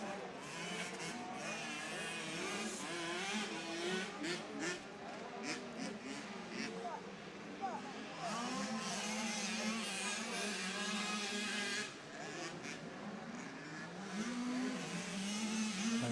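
Motorcycles race around a dirt track at a club meeting, several engines revving and swelling continuously at a distance, with pitch rising and falling as riders round the far bend, and a commentator talking over the roar.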